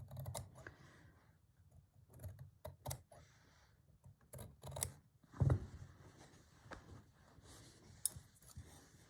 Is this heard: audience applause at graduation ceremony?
no